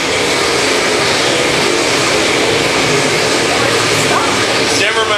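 USMTS modified race cars roar together on the Humboldt Speedway dirt track, a dense, loud, continuous wash of engine noise with no clear gaps, while an announcer's voice calls the race over it.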